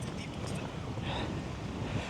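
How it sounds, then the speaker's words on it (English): Strong wind buffets the microphone outdoors in Lanzarote near the airport, a steady roaring rumble that runs throughout the clip at a constant loud level. "It's proper windy here now."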